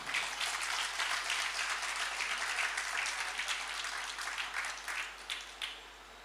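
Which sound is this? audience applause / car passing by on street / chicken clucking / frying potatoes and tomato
audience applause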